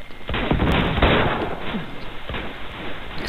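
Enemy gunfire in Uncharted 2, a burst of several sharp rapid shots with crackling impacts, loud and close.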